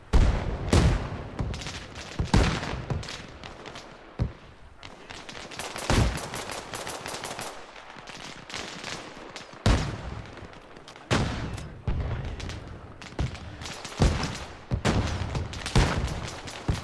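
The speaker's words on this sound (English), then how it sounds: "We're taking heavy fire over here at the pit." Heavy gunfire and incoming indirect fire rage in the military shooter game Arma Reforger around a mortar pit during a training exercise: repeated loud bursts of rifle and machine-gun fire with heavy booms, some close and some distant, with no voices.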